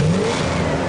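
A car engine revs hard in a motor oil advertisement, a loud, close, steady roar with a rising pitch sweep near the start and no voices.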